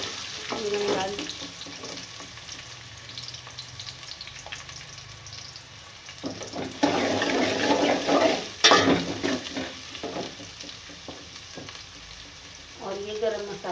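Onions dropped into hot oil in a pot for beef yakhni pulao, a broad steady sizzle and crackle with bursts of stirring and clatter, close and fairly loud.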